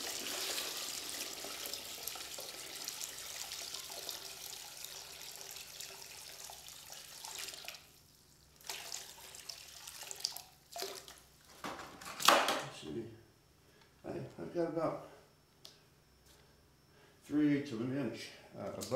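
Sodium carbonate solution poured into an electrolysis tank for rust removal on an old Sears saw: a steady rushing pour for about seven seconds, then scattered knocks, clunks and splashes of handling nearby.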